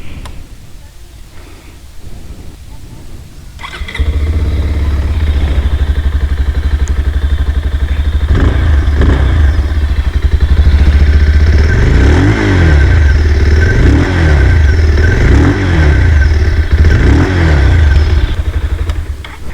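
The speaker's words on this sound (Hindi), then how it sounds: "आपको एक बार बाइक में स्टार्ट करके दिखा देता हूँ।" After a few quiet seconds a 2021 Bajaj Pulsar 220F motorcycle engine starts up close by and loudly, idling and then revving in repeated rising bursts.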